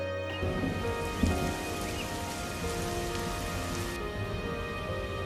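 Cartoon storm sound effect: steady rain pattering on surfaces with a soft rumble of thunder, continuous and moderately loud throughout with no voices.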